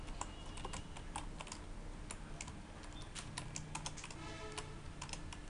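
Rapid clicking of a computer keyboard as an SQL update statement is typed, with steady, close keystrokes continuing without pause under a faint background hum.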